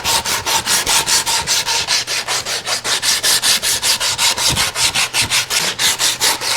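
Wood is hand-sanded with 80 grit sandpaper on a twisted hollow form, producing loud, evenly paced rasping strokes, about five per second, back and forth without pause.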